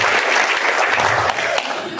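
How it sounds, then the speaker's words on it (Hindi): A crowd at a spice conclave in Jodhpur breaks into loud, dense applause, a continuous close roar of clapping throughout. "तो इनके लिए एक बार प्लीज जोरदार तालियां हो जाए।"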